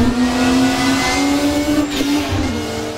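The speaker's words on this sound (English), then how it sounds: "trouble getting into third gear there" A race car in Assetto Corsa straining in gear under a steady loud engine drone, with the pitch holding and then dipping unevenly as it fails to shift cleanly into third, close and without talk.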